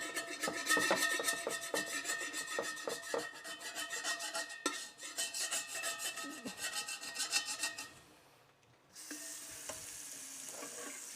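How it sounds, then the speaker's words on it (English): A metal spatula scrapes and stirs food in an iron wok, a dense run of rasping, clattering strokes that is close and steady before a brief lull, then a hissing sizzle. "You hurt my soul scratching with a metal spatula?"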